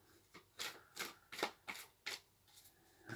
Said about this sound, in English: I could have been shuffling while I was saying all that.